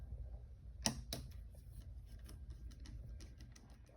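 A screwdriver unscrews screws from the back of a Lenovo ThinkPad SL410 laptop, opening with two sharp clicks, then a faint, rapid ratcheting tick over a low hum, close and quiet.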